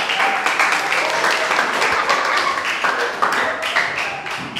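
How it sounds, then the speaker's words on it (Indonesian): Classroom applause for a student group at a junior high school, steady dense clapping from many students running evenly throughout at close range. "Tepuk tangan untuk kelompok 3"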